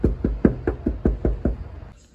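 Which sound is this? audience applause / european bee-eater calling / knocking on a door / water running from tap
knocking on a door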